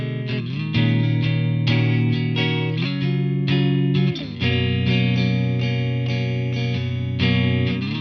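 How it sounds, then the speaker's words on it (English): Bright, clean electric guitar played through an amp simulator strums chords with a jangly, ringing tone, steady rhythm and sustained notes, played alone without any voices. "I just used an amp sim to create a clean, jangly guitar tone."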